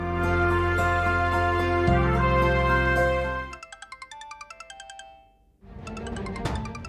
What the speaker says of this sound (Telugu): త్రిపుర, నీ ఫోన్ మోగుతుంది.